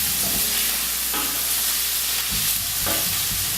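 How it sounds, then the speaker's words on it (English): Prawns sizzling in a hot pan for prawn and chorizo linguine, a loud continuous crackle and hiss heard up close, with occasional low clunks of the pan and no voices. "So our prawns are almost cooked, they probably just need another minute on here."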